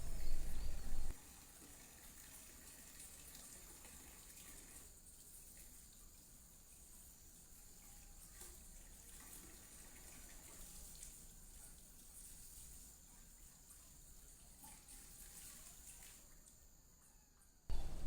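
Water runs steadily from a tap as someone washes their hands and feet, a soft continuous splashing stream, with a louder burst at the start and at the end.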